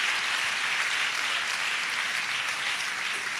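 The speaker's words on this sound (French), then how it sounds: "Clap offering to Jesus Christ." A church congregation claps in acclamation to Jesus Christ, a dense, even wall of applause that holds steady at full strength throughout without any voices.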